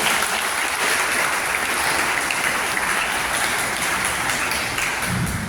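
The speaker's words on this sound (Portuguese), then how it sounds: "Aplauda o Senhor pela nossa vida." Congregation applauding during a church service, dense sustained clapping that stays even and loud from start to finish.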